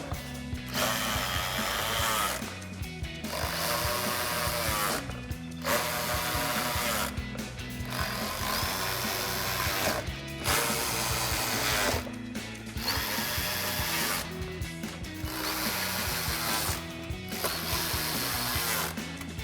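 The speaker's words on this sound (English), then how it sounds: "we're gonna use our 10mm wrench and a 10mm socket to tighten all these down" A 10mm socket on a ratchet tightening bolts on a 2018-2020 Ford F-150 front lower valance, a continuous close clicking ratchet broken by brief pauses every couple of seconds.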